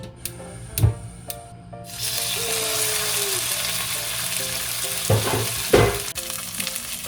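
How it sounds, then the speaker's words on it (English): Salmon sizzles steadily in a frying pan for fried rice. A few sharp clanks and taps come before the frying starts, and a couple of louder clatters of utensils land near the end. "The next step is we have to fry the salmon"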